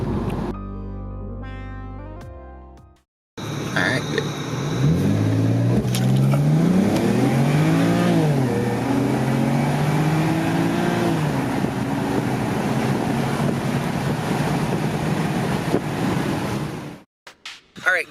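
A BMW car engine revs hard and climbs through several gear shifts as it accelerates from 0 to 60, loud and close, after a brief musical intro.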